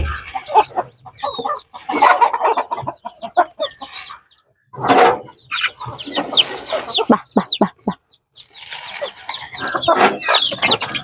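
Hens and young chicks on a small poultry farm, near and loud, cluck and chirp in busy overlapping bursts with brief pauses, a few squawks standing out.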